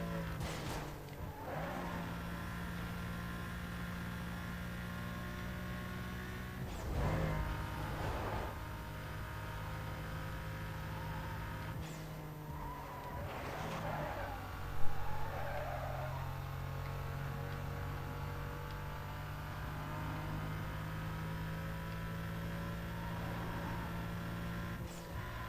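Engines of race cars in Need for Speed Most Wanted, a Lamborghini among them, drone steadily and rev through gear shifts while cars drift through a corner, with a brief sharp bump midway and no talk over the game sound.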